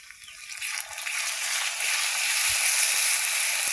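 Ginger and cumin paste frying in hot oil, a steady close sizzle that builds slightly and holds for a few seconds with faint stirring scrapes.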